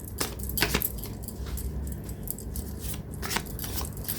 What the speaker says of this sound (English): I had shuffled this deck, but as guided, I'm shuffling it once again.